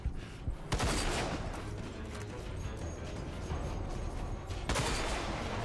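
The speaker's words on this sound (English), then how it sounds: "now it's time to use the sniper rifle." A sniper rifle in the shooter game RAGE fires two loud, sharp shots about four seconds apart over dense, noisy in-game action.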